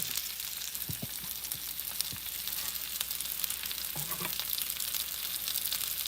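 Shrimp for tacos fry steadily in a pan with a loud, continuous sizzle and crackle, plus a few soft knocks from stirring.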